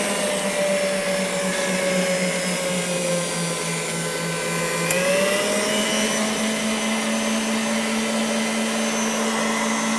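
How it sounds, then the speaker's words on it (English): A Hobart KitchenAid stand mixer runs continuously while chocolate truffle cake batter is made, giving a loud, steady motor whine whose pitch shifts slightly midway, with no talking. "Now I noticed that you're using a Hobart KitchenAid"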